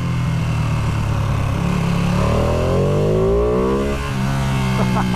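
A Ducati Panigale V2 sport motorcycle ridden in the rain, its engine droning loud and close, rising in pitch through the gears with a strong, continuous note and a shift near the end.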